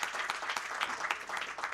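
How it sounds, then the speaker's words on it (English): Applause for a panel at a policy dialogue during an AI summit, a steady patter of clapping from the audience across the whole short stretch, moderately faint. "And a round of applause to all of you for sharing your time and being with us."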